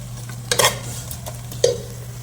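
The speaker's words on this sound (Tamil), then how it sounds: "ஸோ ஒரு 2 நிமிஷம் அப்படியே வதங்கட்டும் பூண்டு." Garlic sautés in oil in a pan while cooking a koosa vegetable gravy, a soft steady sizzle with a couple of brief stirring scrapes, close and moderately quiet, with no talk.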